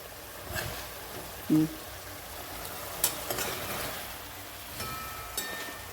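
Meat for a chicken curry sizzling in a hot pan: a steady, broad frying hiss with a few soft knocks and scrapes, moderately loud and continuous throughout, with no talking.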